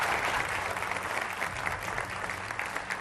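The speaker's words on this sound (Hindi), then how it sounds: "राधिका खेड़ा जी, तालियों के साथ स्वागत कीजिए" Studio audience claps steadily to welcome a guest on a Hindi political debate show, continuous dense applause at even loudness for the whole stretch.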